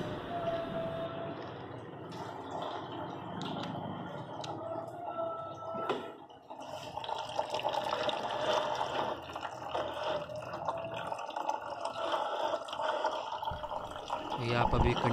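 Coolant drains steadily from the radiator of a Hyundai i10 Magna petrol hatchback, a continuous watery trickle and splashing that runs throughout, with people talking over it.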